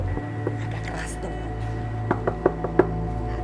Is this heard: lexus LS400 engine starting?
no